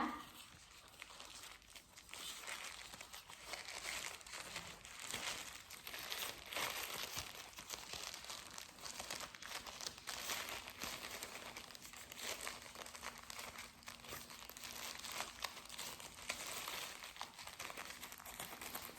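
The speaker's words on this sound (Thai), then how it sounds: "พับเป็นสามเหลี่ยม ทบกันไปเรื่อยๆค่ะ จนสุดปลายถุงนะคะ" Thin plastic bag crinkling steadily as it is folded over and over into a triangle, close up, a continuous dry rustle and crackle with no voices.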